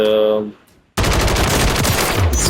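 An automatic RAM assault rifle fires in a video game as one sustained, rapid, loud burst after a brief quiet gap, preceded by a short tonal interface sound.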